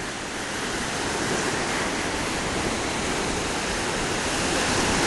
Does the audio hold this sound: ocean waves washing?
yes